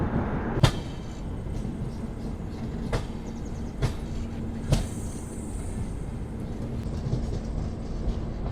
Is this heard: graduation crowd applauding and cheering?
no